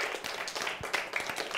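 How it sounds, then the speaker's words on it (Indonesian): Children clapping in a primary school maths class: a short burst of scattered, uneven hand claps, fairly close and moderately loud, with classroom chatter in the background. "Tepuk tangan untuk diri awak."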